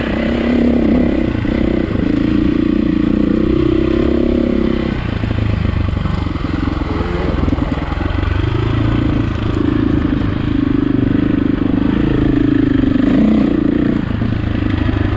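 A 2004 KTM 525 EXC dirt bike being ridden, its engine droning loud and close for the whole stretch, the note rising and falling with throttle, with clatter and scraping from the terrain.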